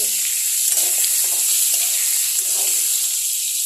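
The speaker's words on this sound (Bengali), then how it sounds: "আলুটাকে একটু ভাজা করে মশলাটাকে একসাথে কষাবো।" Potatoes frying with spices in a pan hiss in a loud, steady sizzle, with faint stirring scrapes underneath.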